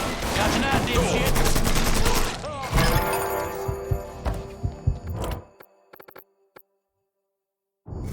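Gunfire in a video game: dense rapid bursts and crackling volleys, loud and close, then scattered single shots thinning out into near silence, with voices heard amid the shooting.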